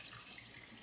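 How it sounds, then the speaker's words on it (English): Filtered water running from a kitchen tap into a cooking pot before pickling beets: a brief, soft, steady splashing stream heard on its own for under a second. "I'm filling it up with my filtered water"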